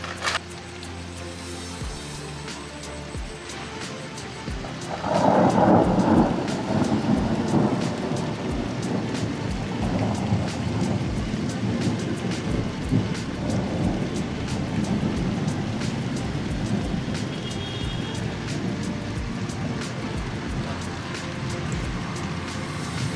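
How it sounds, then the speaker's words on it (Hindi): Heavy rain pours steadily onto a rooftop camping tent at night, thunder rolling in low and loud early on, then a dense continuous patter with quieter rumbles beneath it. "थोड़ी सी बारिश तेज़ हो गई है"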